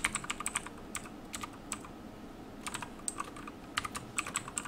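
Keys tapped on a computer keyboard while a username is typed in to set up Active Directory with vCenter 6.5: irregular bursts of crisp, close clicks with short pauses between them, no voices.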